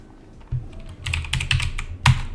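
A quick burst of keystrokes on a computer keyboard as a cd command is typed at a command prompt, with close, crisp clicks that speed up into a dense run before one harder final key.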